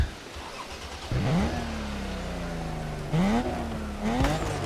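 A sports car engine in The Crew Motorfest fires up and revs in several sharp bursts, each climbing then settling to a steady idle, loud and close with no talking.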